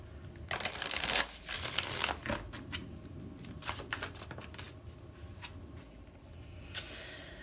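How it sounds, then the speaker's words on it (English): Tarot cards are shuffled up close in several crisp riffling bursts, with soft papery handling sounds between them and no talking. "One more shuffle."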